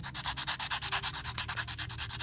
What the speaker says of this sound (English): I get up to about 400 grit at most when it comes to sanding these down.